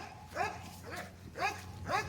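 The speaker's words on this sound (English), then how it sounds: "We had to get real security. We got a big dog." A big dog on a small farm barks in four short, loud, close bursts spaced roughly half a second apart, with low rural background noise underneath.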